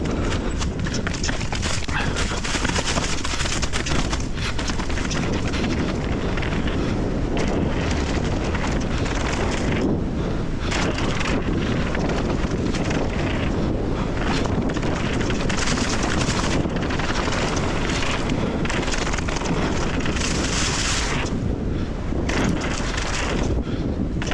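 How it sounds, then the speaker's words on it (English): Strong gusty wind batters a camera microphone at the Highland bike park, a loud, continuous rumbling buffet that swells and eases over about twenty-four seconds, with faint sounds of riding underneath. "I will say the wind's actually pretty bad today."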